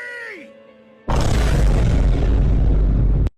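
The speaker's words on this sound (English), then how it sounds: "Adachi Vine Boom." A vine boom sound effect over a distorted Adachi portrait from Persona 4: a faint tonal sting, then a sudden loud, deep, booming blast that holds for about two seconds before cutting off abruptly.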